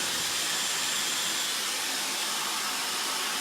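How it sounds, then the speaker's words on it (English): A Dyson hair dryer blows loud and steady with a constant airy roar while drying hair during a short pixie haircut, and no voices are heard. "I personally really like the Dyson hairdryers"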